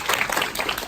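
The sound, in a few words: audience applause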